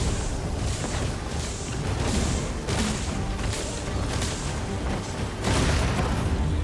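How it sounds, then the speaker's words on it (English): Rumbling blasts and crashing booms from combat in the video game Dragon's Dogma 2, loud and layered, several bursts with no one speaking. "Right into the explosion."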